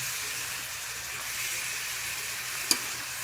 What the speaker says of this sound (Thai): ที่ต้องคนอยู่ตลอดเพราะว่า ไม่งั้นไก่มันจะติดกระทะนะฮะ